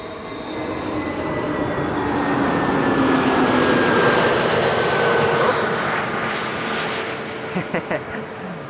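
Delta Air Lines airliner's engines at Amsterdam Schiphol, taxiing toward the Polderbaan runway: a loud, broad jet roar with a slowly shifting whine that swells toward the middle and eases off, with a few brief clicks near the end.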